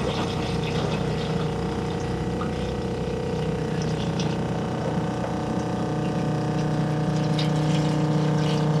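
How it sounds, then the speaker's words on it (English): A Stinger Gateway ride-on sprayer with its tank agitation running gives a steady, loud pump-and-motor hum with churning liquid, continuous and even throughout, no voices. "let's turn the agitation on right here. Get that spinning."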